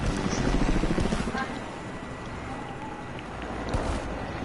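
A helicopter in the video game Fortnite gives a steady, broad rotor rumble that swells slightly at the start and near the end, with faint game noises around it.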